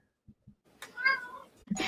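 A single drawn-out cat meow, close and fairly quiet, preceded by a couple of soft taps and followed by a brief burst of noise.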